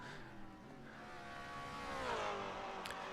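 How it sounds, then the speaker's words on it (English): A Maserati race car in a racing video game, an engine's steady growling drone with rising, sweeping harmonic tones as it accelerates, moderately loud and alone without talk. "Oh, that's a nice growl of the car"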